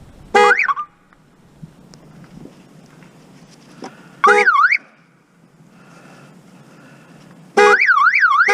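Hummer H2 car alarm going off after a battery replacement, three loud bursts of a warbling siren tone separated by quiet stretches, close by.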